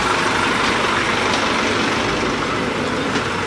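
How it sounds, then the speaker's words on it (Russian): A large petrol-engined bus drives through the narrow paths of hotel grounds in Egypt, a steady loud engine rumble with broad road noise held throughout and no talk. "Бензиновый большущий автобус."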